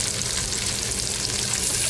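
Vegetables with peas and potato sautéing alongside onion in a pan, a dense, continuous close sizzle with faint stirring underneath, no speech.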